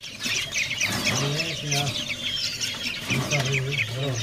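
Sooty-headed bulbul chicks fill a bird kiosk with dense, continuous high-pitched chirping and calling, while someone talks over the chatter throughout.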